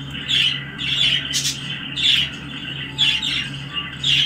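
A bird squawks and chirps in repeated bursts about every second, harsh calls over a steady low hum with faint music in the background.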